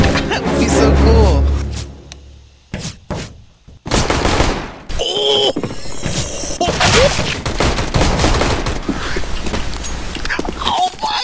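Gunfire in the video game CS:GO on the Mirage map: loud bursts of shots and sharp cracks, with gaps between volleys, while players talk and shout over the action.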